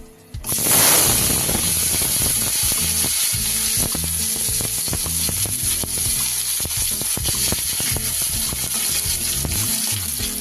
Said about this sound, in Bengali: বড়িগুলো আমি তুলে নিয়েছি, এইবার দিয়ে দেবো তেলের ওপর।